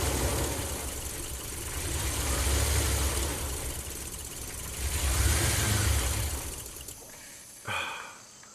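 A Ram camper van engine, stalling after a hot soak, runs with a broad rough roar that rises in two surges of revving, then cuts off with a brief cough near the end.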